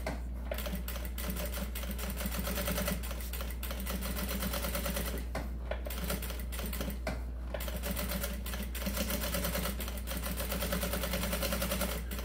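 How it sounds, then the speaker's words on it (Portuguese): Sewing machine running a steady safety stitch along the edge of fanny pack fabric and lining, a continuous close mechanical whir with brief pauses and restarts throughout. "Eu faço uma costurinha bem na beiradinha, só uma costurinha de segurança."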